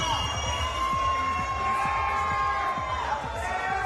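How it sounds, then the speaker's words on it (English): A crowd cheers at a TPF fight night as a fighter from near Fresno, California makes his entrance, a sustained roar of voices under repeated rhythmic thumps of entrance music. "Here's the accolades from the crowd"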